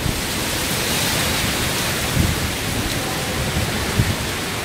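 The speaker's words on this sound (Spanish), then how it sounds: "Se nos viene una lluvia intensa." Heavy tropical rain in a Central American wet season pours down steadily, a dense even hiss of water on surfaces with a few louder splashes and gusts, no voices.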